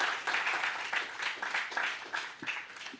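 Applause from a conference audience at the close of a panel session, a dense wash of many hands clapping at moderate loudness and held steady for the whole stretch, with no voices over it.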